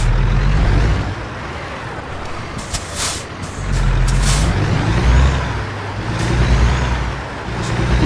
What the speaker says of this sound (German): fahren wir einen Kenworth